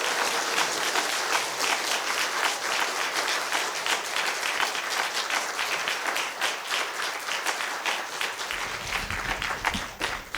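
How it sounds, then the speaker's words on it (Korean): A church congregation claps warmly at a centennial thanksgiving and pastor installation service, a sustained, dense roomful of applause lasting about ten seconds, loud and even, with no speech over it. "뜨거운 박수로 축하해 주시기 바랍니다."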